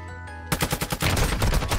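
Rapid automatic gunfire in the mobile shooter game Warzone Mobile, a loud, close burst of shots after a brief quieter moment.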